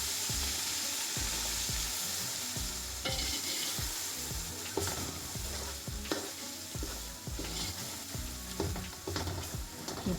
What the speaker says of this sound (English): I'm just going to stir it.